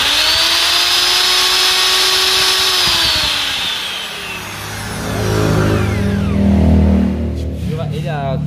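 Repaired small engine with a reset crankshaft running again, a high steady whine that drops in pitch and fades, then a lower idling rumble with someone speaking over it.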